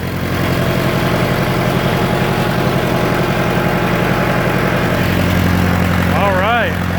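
Steady low rumble of a 1966 John Deere tractor engine running as the clutch is let out, a constant near drone with a voice briefly speaking over it at the end.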